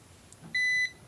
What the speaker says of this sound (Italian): andiamo a vedere la giunzione, notiamo subito che fa il bip